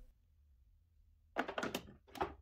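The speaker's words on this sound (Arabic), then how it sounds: "درج حامل الكبسولة" A Dolce Gusto Jovia capsule machine by De'Longhi has its capsule holder drawer handled: a quick cluster of plastic clicks and knocks followed by one more click, close and fairly quiet in a still room.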